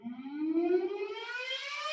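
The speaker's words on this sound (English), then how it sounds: "There's the alarm." An alarm siren goes off during a yoga class, a steady loud wail that climbs gradually in pitch across the whole two seconds, with no talking.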